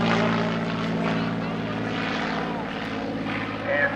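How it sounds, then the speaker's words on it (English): A P-51 Mustang warbird with a Rolls-Royce engine flies past at an outdoor air show, its steady droning propeller roar moderately distant and sustained throughout. "Right now, we've got our P-51 Mustang with that beautiful sound of the Rolls-Royce"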